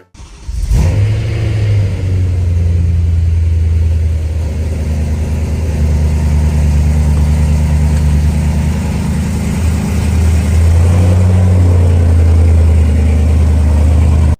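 A BMW E9X M3 with a Cold Start Delete tune cold-starts: a quick crank catches into a loud, steady, deep idle that holds close and continuous throughout, with a slight dip and rise in pitch partway through.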